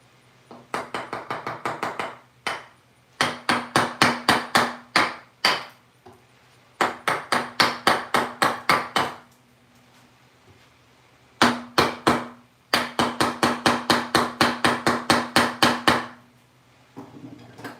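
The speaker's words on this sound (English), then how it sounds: "That's because I kept moving the chisel up and down." A chisel struck repeatedly into a wooden bunk bed rail, sharp rapid knocks in several bursts of a dozen or so blows, each burst separated by short pauses.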